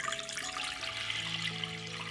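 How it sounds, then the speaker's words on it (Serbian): Water pours steadily into a pot, a close, continuous splashing stream with a rising ringing tone as the vessel fills with two litres of water. "zatim ću u šerpu sipati 2 litre čiste vode"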